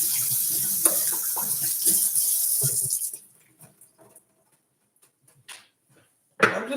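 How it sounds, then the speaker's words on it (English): A kitchen tap runs steadily for hand washing, a bright hissing water stream for about three seconds before shutting off, followed by faint clicks and a brief splash. "So I'm going to wash my hands real quick here."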